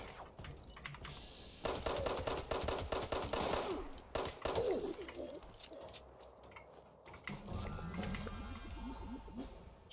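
An automatic pipe rifle fires in Fallout 76 on PC, a dense rapid string of sharp close shots in bursts lasting several seconds, with clattering game sounds after them.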